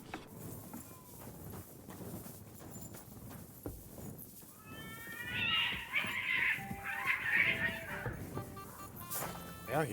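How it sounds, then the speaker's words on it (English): Cats fighting in the medieval world of Kingdom Come Deliverance 2, rising yowls and caterwauling over clip-clopping horse hooves, moderately near and growing louder in the middle before fading. "Oh, there's a cat fight."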